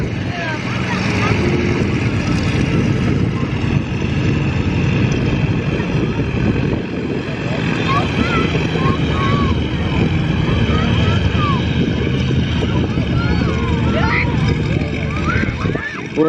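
Propeller airplanes at the Flying Circus airshow, two formations of three, running up and taking off; a steady loud engine drone with fluttering prop tones, continuous and fairly near, with faint voices in the crowd.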